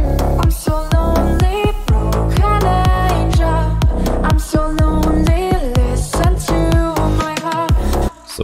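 A loud, dense slap house drop, with a punchy kick, bouncy bass, and bright synth hits driving a steady four-on-the-floor groove.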